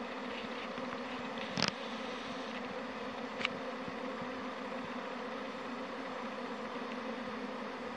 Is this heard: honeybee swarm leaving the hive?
yes